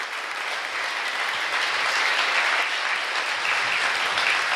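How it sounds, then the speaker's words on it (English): Audience applause at a Hubbell-Hart campaign event, with a crowd clapping steadily and loudly throughout, dense and even with no pauses and no talking over it. "let's give another hand for Rob, Tim, and Deidre"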